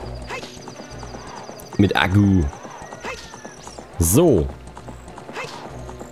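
Epona the horse from the Zelda: Ocarina of Time video game, with clip-clop hooves and two loud whinnies in the game's synthesized sound, while someone talks over them in German.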